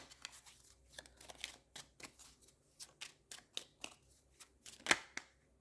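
A card is drawn from a deck: soft, separate papery flicks and slides near at hand, ending in one sharper snap, in a quiet room.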